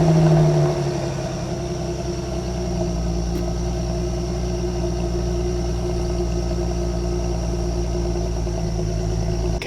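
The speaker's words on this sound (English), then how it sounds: "I really like the sound of the M272 motor" A Mercedes W204 C350 with the M272 engine and about 160,000 miles runs steadily at close range, a smooth even drone with a brief shift in pitch at the start and no talking.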